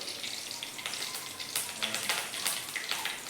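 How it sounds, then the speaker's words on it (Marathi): Curry leaves sizzle in hot oil in a pan beside sautéed onion and tomato, a close, crackling hiss with sharp spattering pops scattered throughout. "आता याच्यामध्ये आपण कढीपत्ता घालून घेऊया"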